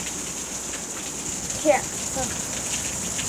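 Steady rain patters outside, a constant wash of drops, with a person speaking briefly over it midway.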